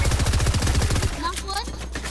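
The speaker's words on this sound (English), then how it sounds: "I'm getting shot from behind" Automatic gunfire in Fortnite Battle Royale, a fast run of close, loud shots for about a second, followed by fainter game sounds with brief tonal chirps.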